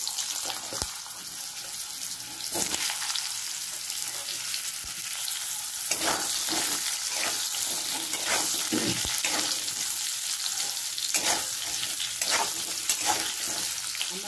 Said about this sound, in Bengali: এটা একটু ভাজা হয়ে গেলে এবার আলুগুলো ছাড়বো